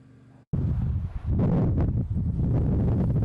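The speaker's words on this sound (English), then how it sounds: "Howling Santa Ana winds today toppled a few big rigs on the 15 in Fontana." Strong Santa Ana wind gusts sweep through Fontana, California, roaring and buffeting loudly against the microphone in surging bursts after a brief quiet start.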